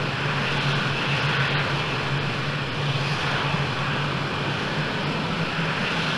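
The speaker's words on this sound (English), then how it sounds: "I'm able to control the throttle now, so the engine is responding, it's working well" A jet engine in the Falcon 4 Allied Force flight simulator roars steadily and loudly as the throttle is worked on the ramp, a broad continuous rush with a low hum beneath.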